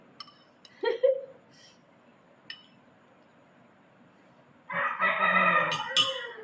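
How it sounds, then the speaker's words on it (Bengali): A few scattered clucks and bird sounds, then a loud, close rooster crow rings out for over a second near the end. "আমার মোরগের ডাক বেশ ভালো লাগে"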